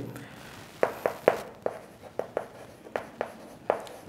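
Pen or chalk taps and strokes while an answer is written out for a Class 6 maths problem, about a dozen sharp, evenly spaced marks over a quiet background with no voice.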